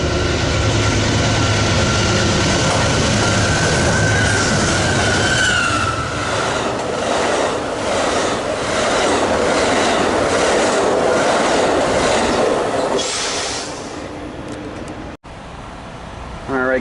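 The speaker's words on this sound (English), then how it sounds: "there goes 581 to LA with 6951 Point Loma and Siemens Charger SC44" Amtrak passenger train 581, hauled by a Siemens Charger SC44 locomotive, rolls past at close range at Commerce, making a loud continuous rumble with rhythmic clickety-clack from the wheels that fades toward the end.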